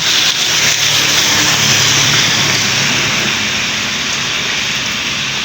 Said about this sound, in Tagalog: So dito, lakas ng ulan dito.